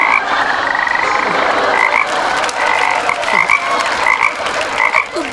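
Frogs croak in a forest at night as a loud, dense chorus that rasps and pulses steadily nearby, with no voices.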